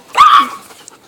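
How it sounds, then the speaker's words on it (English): A puppy gives one short, high bark that slides into a whimpering whine, close and fairly loud, with a faint yip trailing after it. "He's such a cute puppy."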